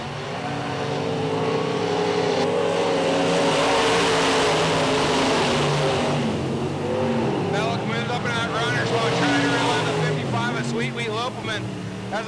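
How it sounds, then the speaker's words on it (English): IMCA modified race cars roar around the Thomas County Speedway during heat races, a dense, continuous engine drone with rising revs and passing cars, loud throughout under a track announcer's commentary. "the cars are starting to move up already, making another lane on the track."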